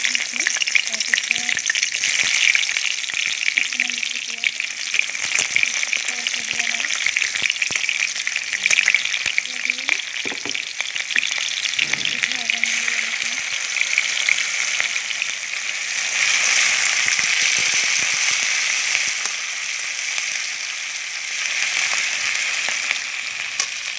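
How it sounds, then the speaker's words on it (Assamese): Bay leaf dropped into hot oil in a pan sizzles and fries steadily for the whole stretch, a close, continuous crackle with faint stirring, as the base for a local chicken curry with pumpkin. "এয়া তেল গৰম আছে, ইয়াত মই তেজপাত দিছোঁ"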